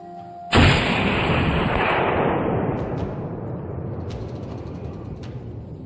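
A hunter's gunshot fired at a wild boar in dense forest: one loud, sudden blast close by, then a long, broad rumbling wash that slowly fades over several seconds.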